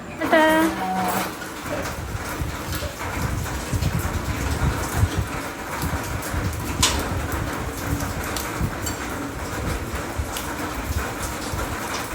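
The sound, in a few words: heavy rain falling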